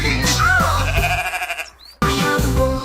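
A sheep bleats loudly in a spooky Halloween-style farm animal soundtrack: a wavering, drawn-out baa over eerie music, fading into a short near-silence before the music returns.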